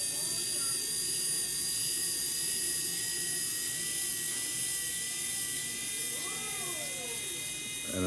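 A small electric screwdriver backs long screws out of the front axle of an Axial SCX24 RC crawler, giving a steady, close, high-pitched motor whine that runs throughout.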